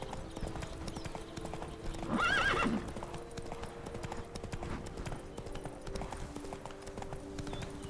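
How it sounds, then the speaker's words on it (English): Horse hooves clip-clop steadily on a road in The Witcher 3: Wild Hunt, a close, even walking rhythm with a brief whinny rising over it around the middle. "Whoa there, Roach"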